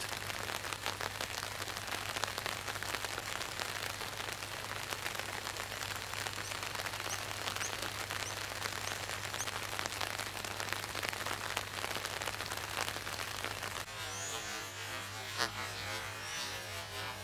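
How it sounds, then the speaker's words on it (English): Steady rain falls over a corn field being replanted with seedlings. It makes a dense, even hiss that holds at a constant level, with a low hum underneath and slightly thinner patter near the end. "The rain is perfect."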